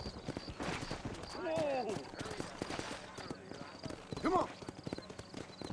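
Galloping horse hooves in Red Dead Redemption, a rapid clip-clop rhythm riding out of town, close and steady under a man's spoken commands and short bursts of talk.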